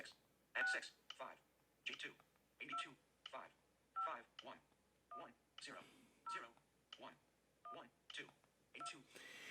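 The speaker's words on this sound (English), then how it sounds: "you have to double tap on each number in order to get it to work" iPhone Phone app keypad tones, a series of about a dozen short dialing beeps spaced roughly evenly, interleaved with a synthetic screen-reader voice announcing each key.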